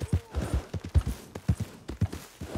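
Horse hooves clip-clop in the video game Red Dead Redemption 2, a steady four-beat trot of sharp, close knocks repeating evenly throughout with no other sound.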